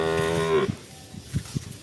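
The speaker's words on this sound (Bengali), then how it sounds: "এটা একটা করস বকনা। আই দেখেন বকনাটা" A crossbred heifer for sale at a cattle market gives one long, loud moo that fades out. Low, dull thumps and shuffling follow nearby.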